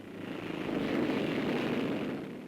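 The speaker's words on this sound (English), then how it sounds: "Motorcyclists who have assembled from all over the country for the National Rally at Donington Park open their throttles" Racing solo and sidecar motorcycles opening their throttles at Donington Park, a broad roaring drone that swells and holds, blurred and distant like an old recording.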